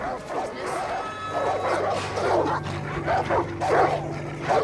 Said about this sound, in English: Oh, what type of dogs? I figured, dude, it's a goddamn pit bull.